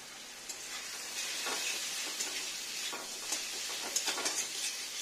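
Taro (arum) frying in a pan, giving a continuous soft sizzle with small crackling pops that grow busier toward the end, no voices.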